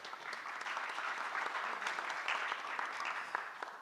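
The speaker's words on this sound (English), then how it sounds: "applause goes in here as well" Audience at the plenary session and debate of a young leaders' economic forum applauds, a dense, even wash of many hands clapping at moderate distance, sustained for several seconds without talk.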